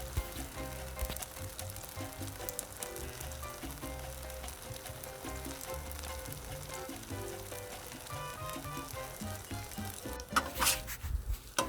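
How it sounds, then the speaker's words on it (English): Mac and cheese fries on a 22-inch Blackstone griddle, a loud continuous close sizzle and crackle with scattered clicks and scraping, ending in a burst of louder spatula scrapes. "We're just basically frying it up to give it some flavor."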